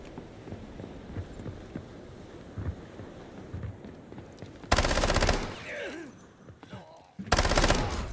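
SMG gunfire in the video game Delta Force, heard as two loud, dense bursts of rapid automatic fire separated by a short pause, over a quieter background of wind and ambient game noise.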